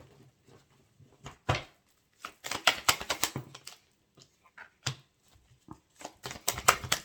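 Tarot cards shuffled and then laid down one by one during a reading, heard as close, crisp papery flicks and slaps in scattered bursts, with brief pauses between card handling.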